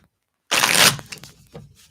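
Tarot cards being shuffled, a sudden burst of crisp riffling flutter lasting about half a second, followed by a few softer card slides and taps, close by.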